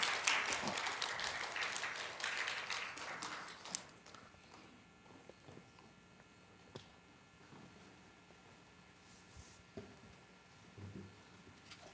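A church congregation at a New Year's Eve service applauds to welcome two MCs. Dense clapping fills the first few seconds, then it thins to a few scattered claps and quiet room noise.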